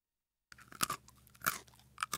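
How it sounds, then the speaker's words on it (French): A crunchy bite into a candy window shutter from a gingerbread-style house: after brief silence, several sharp crunches and chewing sounds come close and alone in uneven bursts. "Gretel croqua un volet en bonbon"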